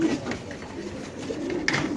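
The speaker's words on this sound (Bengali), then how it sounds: "সুস্থ সবল বড় সাইজের কবুতর মাশাআল্লাহ দেখেন" Pigeons cooing at a farm selling large, healthy birds, with soft repeated coos throughout under a steady background hum and a brief louder rustle near the end.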